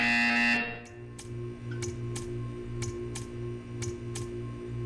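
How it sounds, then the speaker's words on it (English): A loud, harsh electronic buzzer sounds in the video game Portal 2, cutting off after about half a second, followed by a steady low machine hum with evenly spaced faint ticks. "You will hear a buzzer."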